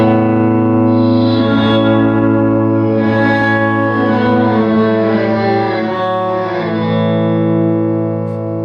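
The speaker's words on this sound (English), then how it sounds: "it falls somewhere between like a reverse delay sound" A guitar pedal set to its reverse mode, sustained chords swelling backward into a thick, washy, fully wet tone with reverb and echo, loud and continuous with no talk.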